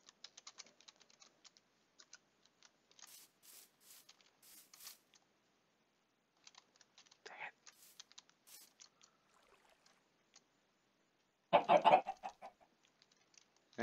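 Minecraft chickens clucking in short, quiet bursts amid light, rapid computer keyboard typing, with one louder cluck-like burst near the end.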